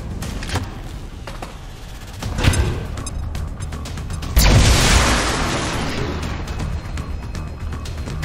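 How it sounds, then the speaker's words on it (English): A grenade going off in XCOM 2, a deep booming blast followed by a rumbling tail, preceded by a smaller thud and scattered clicks. "Grenade deployed."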